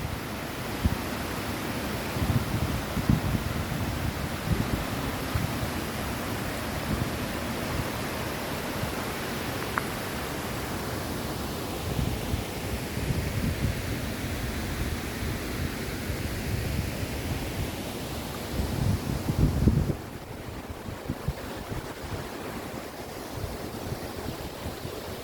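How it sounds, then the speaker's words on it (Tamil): A constant, dense roar of falling water from a waterfall in Grandvillard, Switzerland fills the whole stretch, broad and steady, with no voices. "பாருங்கள், இயற்கை அமைஞ்ச இந்த அருவியை பாருங்கள்."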